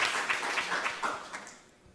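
A lecture audience gives a brief burst of applause for a professor, dense clapping that fades out quickly.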